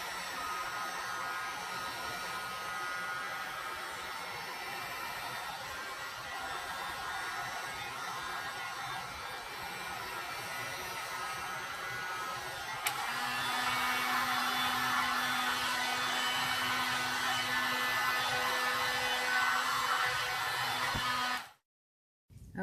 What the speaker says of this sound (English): Let me grab my heat gun.